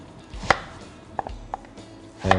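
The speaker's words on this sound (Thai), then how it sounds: "หั่นเป็นชิ้น" A knife chops vegetables on a cutting board in a few sharp, close strikes, unevenly spaced, with no voices.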